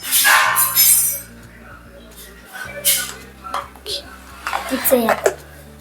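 A spoon stirring egg white, coffee powder and turmeric in a bowl, bright clinks and scrapes against the bowl close up, with a person talking over a low steady hum.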